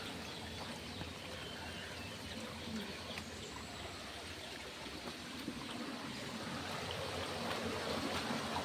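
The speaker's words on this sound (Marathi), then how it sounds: "आम्ही जेचा काल आलेलो त्यापेक्षा पाण्याचा प्रवाह थोडा जास्त आहे" Stream water in the Konkan countryside flows in a steady broadband rush with a slightly stronger current, continuous and fairly close, with faint birds in the background and no one talking.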